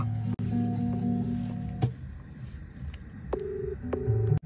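A phone call's ringing tone plays in steady repeated tonal bursts with gaps between, fairly faint against background noise, heard outdoors at night near a cremation ground during camping.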